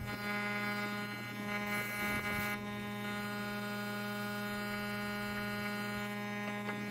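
Air compressor running for pottery spray glazing, a steady loud electric hum with a buzzing harmonic drone throughout and a brief hiss of air near the start.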